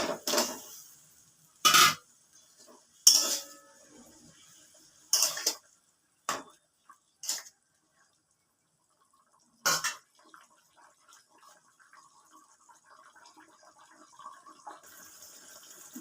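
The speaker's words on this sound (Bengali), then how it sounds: "ঝোলটা ফুটে উঠেছে, এবার মাছগুলো দিয়ে দিচ্ছি" Pieces of bowal fish dropped into boiling curry gravy for a jhal, heard as a handful of short splashes and clatters separated by quiet gaps, with a faint bubbling simmer afterward.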